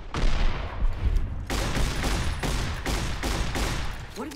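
A big, loud gun fires a rapid burst of heavy, booming shots in Fallout: New Vegas, the blasts following close together in a continuous volley with no talk over them.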